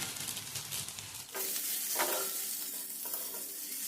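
Chopped capsicum frying with onion, bay leaf and garam masala in a hot pan, a steady close sizzle with stirring scrapes, a louder burst of spatter midway, no voices.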